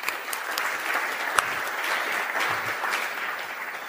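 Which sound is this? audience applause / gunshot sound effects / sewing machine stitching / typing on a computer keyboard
audience applause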